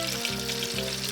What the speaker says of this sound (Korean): 170도 예열된 튀김기에 새우를 천천히 넣어주이소.